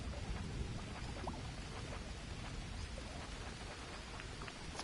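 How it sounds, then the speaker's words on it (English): Steady rain in the survival video game Green Hell, a dense continuous hiss with scattered drop impacts and a low rumbling underlayer, loud and even throughout with no talking. "It's already raining."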